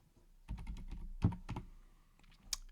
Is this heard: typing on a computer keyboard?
yes